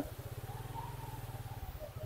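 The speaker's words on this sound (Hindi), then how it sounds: "बाइक स्टार्ट कर लिए हैं" A motorcycle engine idles in Rishikesh with a fast, even low thumping pulse, close and steady for a couple of seconds.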